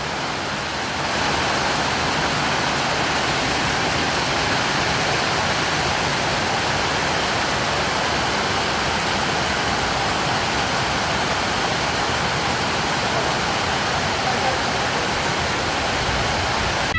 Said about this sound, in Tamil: நல்லா கனமழை.